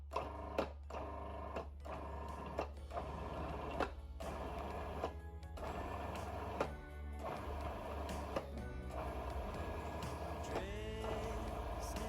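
A food processor pulsing mince pie pastry with orange juice in a kitchen: a steady, close motor whir broken by several short stops and restarts across the clip, with no talk.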